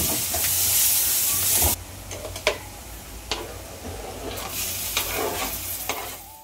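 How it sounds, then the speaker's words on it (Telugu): Freshly pounded ginger and garlic fry in a hot pan with a steady close sizzle, broken by a few sharp clicks and scrapes of stirring; no one speaks. "అల్లం వెల్లుల్లి పచ్చివాసన పోయేంత వరకు ఫ్రై చేసుకున్న తర్వాత"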